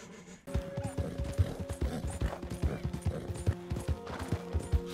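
A horse's hooves clip-clop in a steady trotting rhythm in Red Dead Redemption 2, loud and close, with faint bits of voice.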